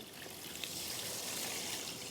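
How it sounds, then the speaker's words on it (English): Three cups of water pour into a flat pan holding two cups of rice for a combi oven, a steady hissing rush of liquid at an even level with no voices. "I'm now going to add 3 cups of water."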